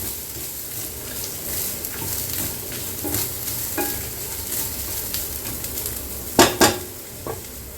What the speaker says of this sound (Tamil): நல்லா மிதமான தீயிலே வச்சுட்டு நல்லா ரோஸ்ட் பண்ணுங்கள்